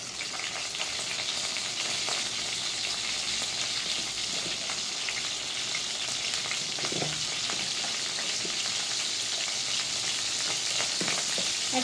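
Cumin seeds and green chillies sizzling in hot oil for a fish curry, a loud, steady, continuous crackle with occasional stirring scrapes and no voices.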